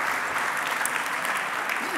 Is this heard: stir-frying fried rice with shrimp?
no